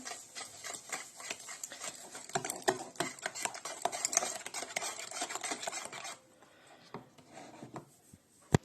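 A whisk beating eggs with sugar scrapes and clatters rapidly against a bowl in steady, busy strokes, then stops abruptly near the end, leaving quiet with a couple of clicks.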